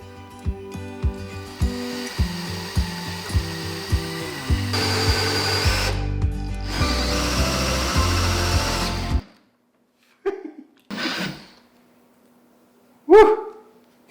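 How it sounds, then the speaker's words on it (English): Power drill boring a faucet hole through a wooden cabinet: a loud mechanical run with stops and restarts, then a steady grind that cuts off abruptly, followed by a few short sharp knocks and clatters. "drill a hole for the faucet"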